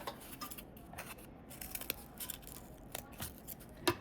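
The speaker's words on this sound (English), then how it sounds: "You're going to make a cut partway through just one piece." Scissors cut partway into one piece of sculpture material to form a slot, giving soft, intermittent snips and rustles that stay close and quiet.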